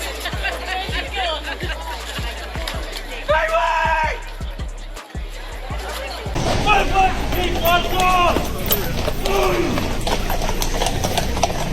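Royal guard horse hooves clip-clopping on pavement in a steady, close rhythm, with a crowd of tourists chattering and talking throughout.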